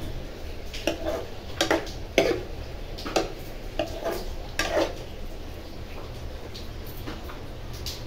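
Paneer, capsicum and tomato are stirred together in a pan, a spatula scraping and knocking against the metal in a series of short, separate clinks and scrapes at a moderate, uneven pace, with a low steady hum underneath.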